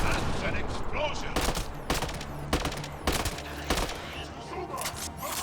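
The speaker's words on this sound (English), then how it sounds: "That's an explosion." Explosions and rapid gunfire in the video game Mass Effect Andromeda, several loud sharp bursts in a chaotic combat sequence.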